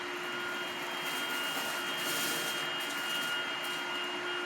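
A Lindhaus Valzer L-ion cordless upright vacuum runs in suction-only mode, giving a steady, airy whine with a constant high tone that holds evenly and fairly quietly throughout.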